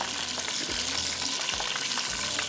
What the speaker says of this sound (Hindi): बहुत ही ज़बरदस्त सी हमारी विंग्स जो है ये यहाँ पर फ्राई हो रही हैं